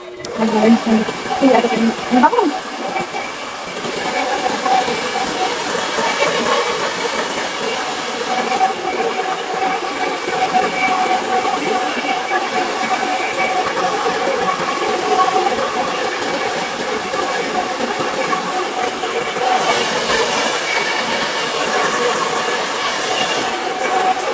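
A continuous blowing, hissing airflow from a hair dryer drying hair runs steadily for a long stretch nearby, with a voice speaking briefly at the start.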